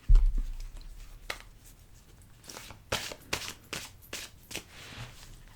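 Tarot cards shuffled by hand in a series of quick, close riffling bursts and soft taps, with no voices.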